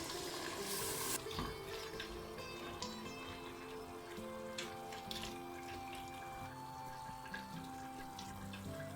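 A cupful of water is poured into a pot of vegan vegetable stew with potatoes and fresh herbs, a brief splash near the start, then a steady wet gurgle and faint bubbling through the rest.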